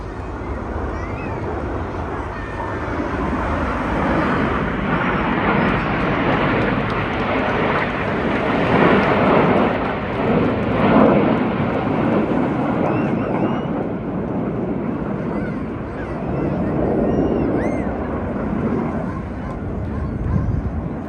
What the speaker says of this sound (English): reds 8 and 9, roll around the rest of the formation